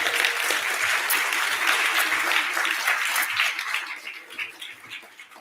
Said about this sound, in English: I have to give you a round of applause.